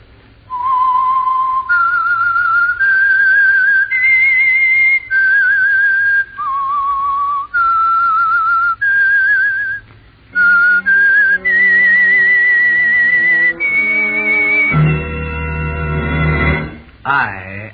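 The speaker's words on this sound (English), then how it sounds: "That whistle is your signal for the Signal Oil Program" Whistled tune serving as the signal for The Whistler radio show, a clear solo melody of sustained, sliding notes that gives way to orchestral music swelling and then cutting off.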